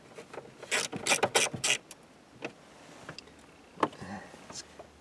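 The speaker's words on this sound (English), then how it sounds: "now I'm gonna put the Torx-headed screws in and tighten the whole cluster in place" Screws with Torx heads being driven in to mount a Dakota Digital dash cluster, giving a quick run of clicking, ratcheting taps followed by a few sparse, faint clicks nearby.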